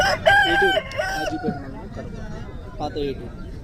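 A rooster at a Saturday hen market in Mydukur gives a loud, close cock-a-doodle-doo, followed by softer clucks and calls amid background market chatter.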